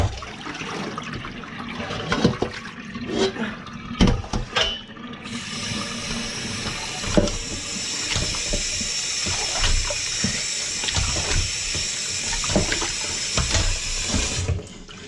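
Cold tap water runs steadily into a sink while homemade butter is rinsed to wash out the buttermilk, a continuous splashing stream with louder bursts and clatter early on, close and without talk.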